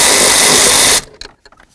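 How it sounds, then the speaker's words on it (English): Power tool running at full speed while removing bolts from the hood latch of a Chevy S-10 pickup, a loud steady whir that stops abruptly after about a second, followed by a few faint clinks and knocks. "Now I'm gonna start removing these bolts."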